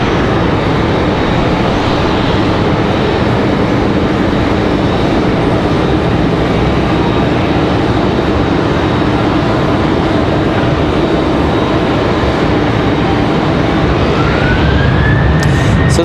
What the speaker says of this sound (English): We got planes coming from all directions. Planes coming, planes going.